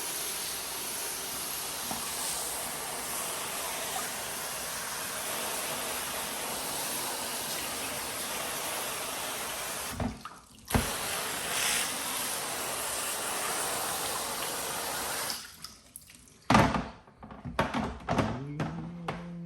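A hose sprays water across a waxed car panel in a steady hissing rush, cutting off briefly, then resuming before ending in a few short bursts and drips.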